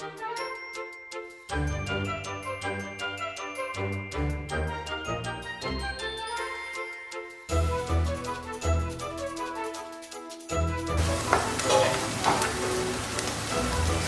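Sliced onions sizzle and fry in a pan for a Kerala-style squid roast, with a steady hiss under scraping, clinking stirring and a background melody.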